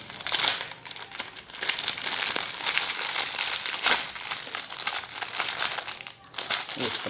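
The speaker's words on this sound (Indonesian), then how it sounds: "Bungkusnya plastik ripet kayak begini ya. Kita buka aja langsung." Crinkling plastic packaging being torn open and handled around a cheap Lego toy car set, a steady close rustle and crunch running throughout with brief louder crackles, plus some talk mixed in.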